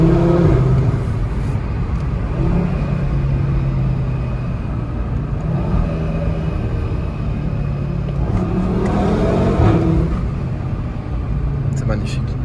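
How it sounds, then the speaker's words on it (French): An Audi RS3 downshifts and revs inside a road tunnel, a loud engine drone that rises and falls through several rev swells with a boomy echo. Someone talks over the engine throughout. "on va juste rétrograder, comme ceci."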